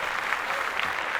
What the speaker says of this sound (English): I want to give a round of applause to Denzel Curry.